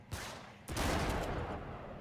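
Gunfire crackles in the video game Uncharted 3: a quick shot, a brief gap, then a dense burst of rapid fire that fades into a lingering rumble, with no talking.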